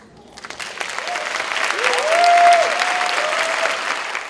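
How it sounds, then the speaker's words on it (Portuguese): A theater audience applauds intensely, a dense wash of clapping that swells to a peak midway and holds steady, with a faint tone rising underneath. "A plateia aplaude intensamente e em peso a resposta de Geni."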